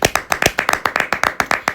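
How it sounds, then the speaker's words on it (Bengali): Loud, close hand clapping in a quick, steady rhythm of about a dozen sharp claps from a small group at a college hostel celebration. "জোরে হাততালি হয়ে যাক"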